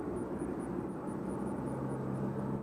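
Southwest Airlines jet approaching Nashville International Airport, a steady, fairly faint engine roar with a low drone and a high whine pulsing above, continuous and unbroken throughout.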